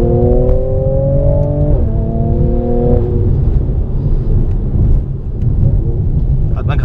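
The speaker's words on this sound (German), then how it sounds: "ihr könnt es schon von hinten hören, dass wir hier ein wunderschönes Blubbern und Knallen haben" A 2019 Mercedes-AMG C43 with a 390 hp engine runs loud and close, its exhaust note droning and shifting pitch with revs, with rumbling burble and a few pops near the end.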